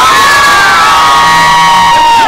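A large crowd in Amsterdam cheers and screams loudly and continuously at a Thai event, high-pitched voices blending into one sustained roar.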